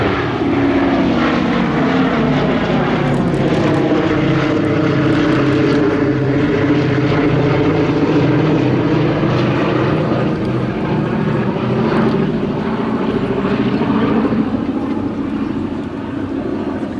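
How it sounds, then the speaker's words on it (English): Steady, loud drone of Wright Cyclone piston engines on a B-17 Flying Fortress at an air show, with propeller throb, continuous and close, no voices. "listen to those Wright Cyclone engines"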